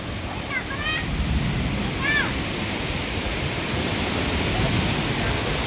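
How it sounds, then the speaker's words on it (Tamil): Strong wind blows after rain as a steady, loud broadband rush with no pauses, and a couple of brief bird chirps rise above it early on. "திரும்ப இந்த மாதிரி காற்ற ஆரம்பிச்சிருச்சு."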